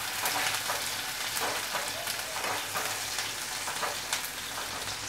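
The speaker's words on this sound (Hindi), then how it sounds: "अब हम इसमें प्याज डालेंगे। प्याज को हल्का चलाएंगे।" Chopped onions frying in oil in a pan for stuffed parwal, giving a steady soft sizzle with light scraping stirs now and then.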